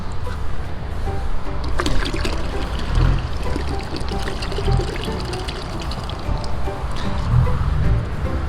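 Liquid starter culture for green-water cultivation pouring steadily into water, a continuous splashing trickle with small surges, heard up close.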